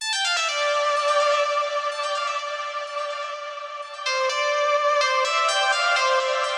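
A bright synth lead from Spire carries a melody in a melodic house track, sustained bright tones holding steady notes with a shift in pitch midway, played clean and alone without drums.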